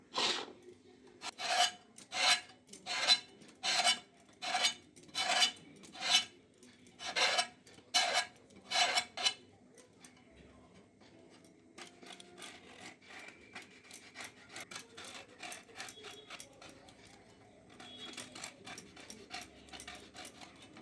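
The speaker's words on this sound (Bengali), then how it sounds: "পটলের গাটা চেঁচে দু সাইড কেটে নিয়ে" Skin scraped off large pointed gourds (potol) with a knife for a vegetarian Bengali dorma, a series of loud rhythmic rasping strokes, then quieter, faster scraping continuing close up.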